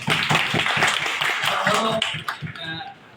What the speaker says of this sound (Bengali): আমরা একটা হাততালি দিচ্ছি